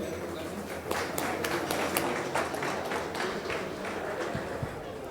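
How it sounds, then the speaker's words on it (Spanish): An audience at an engineering talk on VAV boxes and HVAC applauds, with dense, steady clapping filling the room throughout and a few murmuring voices underneath. "Un aplauso, por favor."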